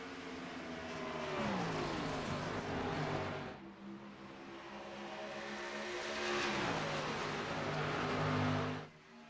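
Stock cars racing around Charlotte in a video game, engines droning and rising in pitch as cars pass, with two swelling passes and a sudden drop-off near the end.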